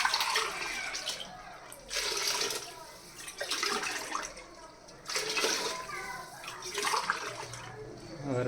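Water is poured into a pot of rice for egg biryani in repeated pours, each splashing for about a second with pauses between, while people talk quietly nearby.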